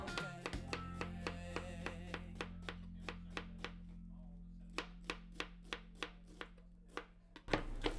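A knife chops through cabbage on a board in a Thai kitchen in Sweden, a steady run of crisp, evenly spaced strikes over a low constant hum, close and alone.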